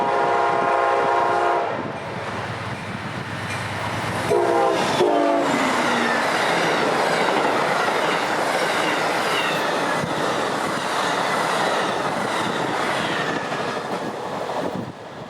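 Amtrak 97, a passenger train on the Florida East Coast Railway, sounds its horn in loud sustained blasts, then roars past up close with rumbling wheels and clickety-clack.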